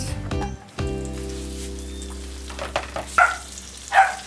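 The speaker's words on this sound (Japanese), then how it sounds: "焼いていきます。" Battered beef tendon frying in rendered tendon lard in a pan, a close, steady sizzle with crackling bursts and a few louder spits toward the end, no voices.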